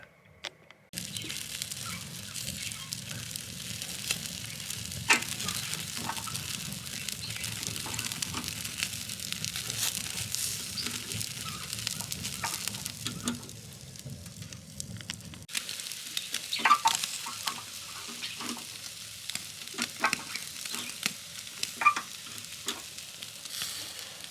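Chicken souvlaki cooks over an outdoor charcoal fire, a steady close hiss of sizzling with a few crackles, louder through the first half and then easing to a thinner crackle.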